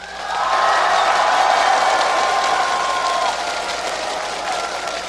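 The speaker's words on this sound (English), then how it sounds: "If you want CLG EU to take this game," A packed esports arena crowd at a League of Legends World Championship quarterfinal cheers for CLG EU, a loud, sustained roar of voices and applause that swells and holds for several seconds.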